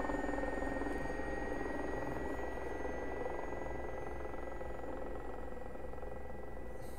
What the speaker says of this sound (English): Oh, such a great sounding helicopter.